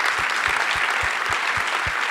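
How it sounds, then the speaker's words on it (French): An audience at a French creative-industries project awards event applauds a winner, a loud, steady burst of many hands clapping, with a faint rhythmic low thump beneath. "On peut l'applaudir."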